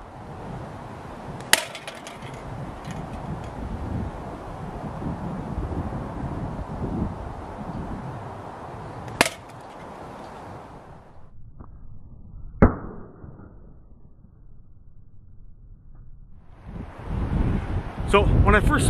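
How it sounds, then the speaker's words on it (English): A Prime Fork Hyper Hunter slingshot fires 8mm steel balls outdoors, with three sharp release snaps spaced several seconds apart over steady wind noise. "and we'll be shooting 8mm steel today."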